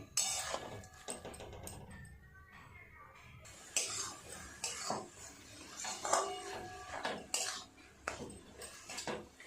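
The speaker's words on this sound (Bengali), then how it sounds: "এইভাবে নেড়ে নেড়ে নারকেলের পাকটাকে করে নেব।" Coconut filling for palm-fruit pitha is stirred in a pan on a gas stove, with a utensil scraping and clinking against the metal in an irregular rhythm at close range while a person talks throughout.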